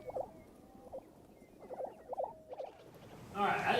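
Lesser prairie chickens give a series of low, hollow booming calls, several short pulsed notes repeated at moderate distance against outdoor background, followed by a brief louder broadband noise at the end.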